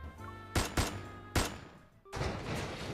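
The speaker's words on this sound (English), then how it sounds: "Suddenly, several gunshots ring out, piercing my eardrums." Gunfire rings out in a fully voiced audio drama: three or four sharp, loud shots in quick, uneven succession, each a hard crack with a short tail, followed by a rising, noisy commotion.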